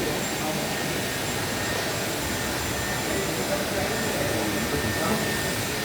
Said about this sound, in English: So we're just taking some of the moisture out of the hair.